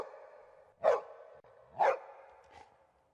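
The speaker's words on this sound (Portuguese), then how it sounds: "Cachorro! Essa foi fácil." Dog barking, two loud close barks about a second apart followed by a fainter third, alone with no talk.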